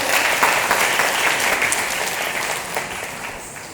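An audience at a heritage cultural festival in Palakkad applauds on stage at an honouring ceremony. The clapping is dense and sustained from the start and fades slightly toward the end.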